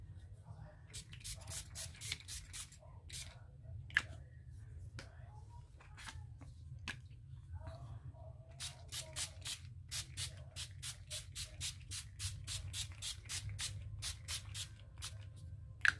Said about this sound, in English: I'll spray a little bit on the backgrounds